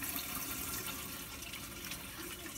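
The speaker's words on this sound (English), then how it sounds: "the water filters up and trickles down and gives it nutrition every single day" Water trickles steadily down through a Tower Garden hydroponic tower, giving a soft, even, hissing splash that is fairly faint and continues alone without interruption.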